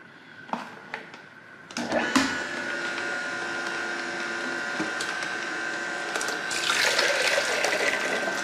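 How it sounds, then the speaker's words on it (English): Tap water runs into a kitchen sink nearby as a steady hiss, with a few knocks at the start and the flow growing louder toward the end. No one speaks. "That noise is my sink, by the way."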